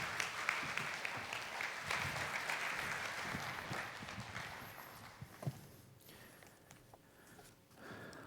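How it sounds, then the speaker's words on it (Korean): Welcoming applause from a church congregation during a Sunday worship service, moderate and diffuse, tapering off over several seconds into quieter room noise with a few scattered sounds. "우리 목사님 나오실 때 환영의 박수, 또 보내주신 우리 하나님께 감사의 박수 드리겠습니다"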